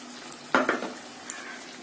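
Yogurt and tomato sauce are sautéed in a pan for cauliflower korma, a soft background sizzle broken by a couple of quick clattering stirs, short and close.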